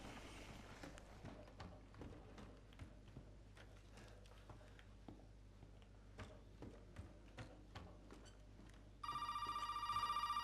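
In the Resident Evil 7 video game, quiet footsteps and faint ambience give way to a loud electronic telephone ring that starts abruptly in the final second and a half, with no talk.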